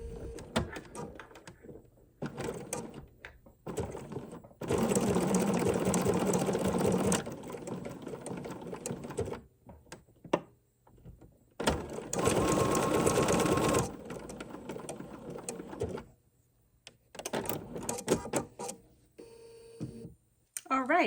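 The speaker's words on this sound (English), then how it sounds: "we'll get that button sewn on our Advent holly" A sewing machine stitches a button and holly trim onto an Advent holly decoration. It gives two sustained runs of rapid whirring, with quieter clicks and handling noises between them.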